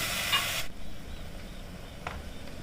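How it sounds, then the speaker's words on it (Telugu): Onions and tomato pieces frying with ginger garlic paste in a cooker for chicken curry, a bright hiss that drops sharply after a moment into a softer, steady sizzle with a faint stir. "టమాటా ముక్కలు వేసుకొని ఫ్రై చేసుకోవాలి"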